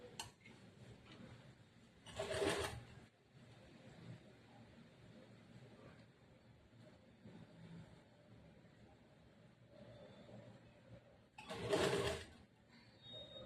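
A sewing machine stitches a churidar semi-patiala pant in two short, loud bursts of rapid mechanical whirring, separated by a long stretch of low background noise and quiet handling.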